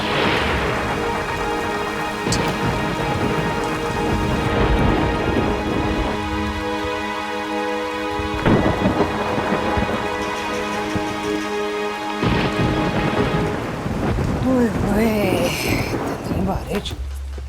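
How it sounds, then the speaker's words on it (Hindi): Heavy rain pours steadily with rolling thunder rumbling underneath, while people talk over the downpour and music plays in the background. "बारिश"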